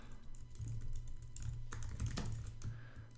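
Quiet, steady typing on a computer keyboard, with rapid, uneven key clicks close by and no voices.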